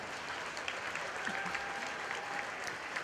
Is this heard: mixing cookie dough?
no